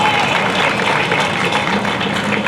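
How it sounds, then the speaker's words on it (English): Applause from an audience at a Philippine Weekend gathering, steady dense clapping that stays loud and even throughout with no talk over it. "let's give them a round of applause."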